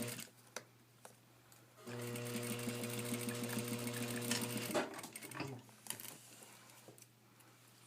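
A home sewing machine runs steadily for about three seconds, stay stitching fabric along its outer edge, a close, even whir with a fast needle rhythm. Quiet handling noises come before and after the stitching.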